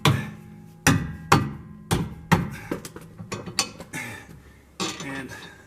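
A hammer strikes a threaded nut jammed in a wrench socket, about a dozen sharp metallic blows in an uneven rhythm, loud and close, with a few quicker taps in the middle.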